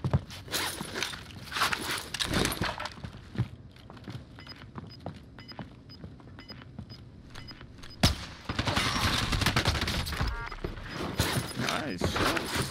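Bursts of gunfire in the Call of Duty Warzone video game on Rebirth Island, with rapid shots and footstep-like clatter scattered through the round, one sharp loud report near the middle and a dense stretch of firing toward the end.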